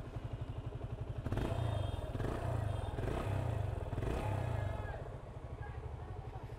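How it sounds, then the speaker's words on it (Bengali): A Yamaha FZ 25 motorcycle engine idling with a rapid low putter, briefly revved louder then easing back, heard up close. "এই যে এটা হচ্ছে বাইকের সাউন্ড"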